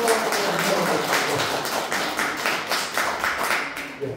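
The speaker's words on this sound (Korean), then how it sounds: "뜨겁게 박수 한번 보내주십시오." Applause fills a hall at an academic conference, many hands clapping in a steady, dense patter that gradually thins toward the end.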